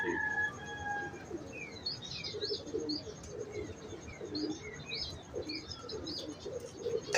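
Pigeons in a loft of breeder females, soft cooing and scattered chirps repeating close by, with faint rustling and occasional wing movement, no voices.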